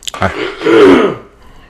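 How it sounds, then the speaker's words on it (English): A single close, rough throat clearing, a brief guttural rasp lasting about a second, with no talking. "I'm going to clear my throat here"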